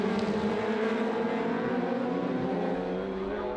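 Superbikes race in the 2013 Cookstown 100 road race, led by Guy Martin out of Craigmount toward the Orator Crossroads. Engines roar loudly and steadily with layered, high-revving tones, holding for several seconds without talk.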